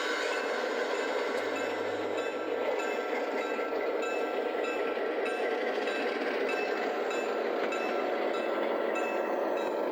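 An O gauge model train climbs a grade, rumbling steadily with a constant motor whine and rattling wheels on track, close by and continuous, no talking.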